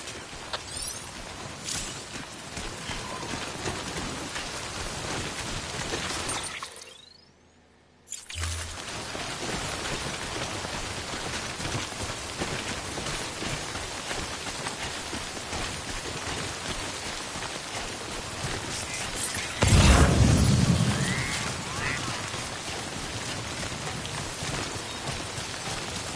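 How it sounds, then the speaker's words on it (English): Timefall rain pours steadily in Death Stranding, a dense hiss of drops on surfaces with a brief dropout and a low rumble of thunder later, continuous and enveloping. "Don't stay out in the rain any longer than you have to."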